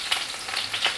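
Stuffed bitter gourds fry in oil, a brief, close, steady sizzle with soft bubbling bursts and no speech.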